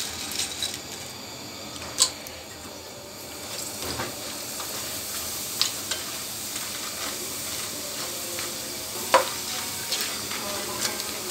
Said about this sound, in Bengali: এখন আমি এটা ভেজে দেখাচ্ছি, তেল গরম হয়ে গেছে, এখন আমি এগুলো এটার মধ্যে দিয়ে দিব।